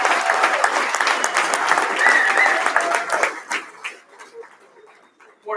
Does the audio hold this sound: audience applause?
yes